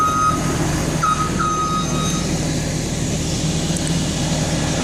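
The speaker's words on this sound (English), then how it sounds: "Oh, there's a car coming." A vehicle approaching near the Madison Kipp Corp. site, with a low, steady engine rumble and a few high reversing beeps early on, continuous and fairly loud.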